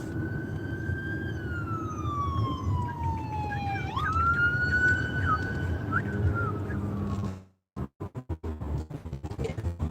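Wailing emergency siren sweeping up and down in loud, continuous tones over traffic rumble, cutting off abruptly near the end and leaving choppy street noise behind; no talk.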